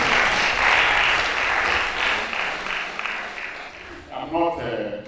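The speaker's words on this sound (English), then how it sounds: "applaud our AE once again." Audience applause at an institute gathering on laboratory equipment, a dense sustained burst of many hands clapping close by that gradually thins out, with voices speaking over it toward the end.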